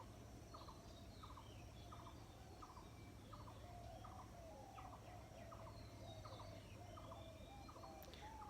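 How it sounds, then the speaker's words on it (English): Many birds call repeatedly around a village in the early morning, a steady chorus of short chirps and trills over constant low background hum, with no talking. "There are a lot of birds. I don't even know its name. Maybe dove, magpie, bulbuli."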